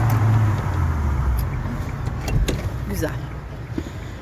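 Hyundai i20 with a manual gearbox braking suddenly on a driving-test course, heard from inside as a steady engine and road rumble that settles as the car stops, with faint clicks and knocks.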